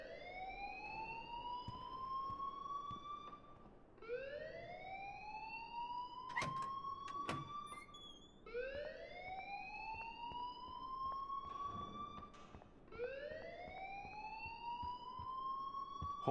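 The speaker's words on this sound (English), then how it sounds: "please turn off that alarm since that's your job" An alarm rings in Life is Strange Remastered, repeating rising wail-like sweeps roughly every four seconds, loud and continuous, with a couple of brief clanks in the middle.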